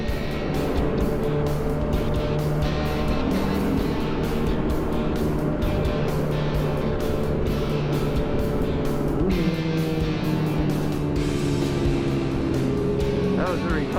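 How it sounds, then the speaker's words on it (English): A vehicle with a new exhaust revs hard inside an old tunnel, its loud, booming engine note rising and falling continuously against a dense echoing roar of passing road traffic. "Somebody's got new exhaust, wants to try it out in the old tunnel."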